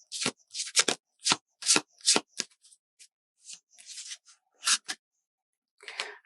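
Oracle cards being shuffled by hand: a series of short, crisp riffling bursts close up with brief pauses between, fairly quiet and with no talk.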